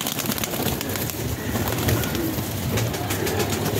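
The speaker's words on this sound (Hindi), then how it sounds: "जी आ गए कबूतर बाहर।" Pigeons released from a cage cooing and fluttering close by, a dense flurry of wingbeats and soft calls over steady background noise.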